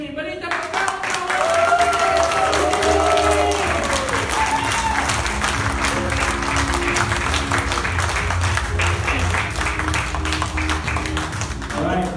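A crowd claps steadily and loudly, the applause filling the space with dense, continuous patter; voices are briefly heard at the start.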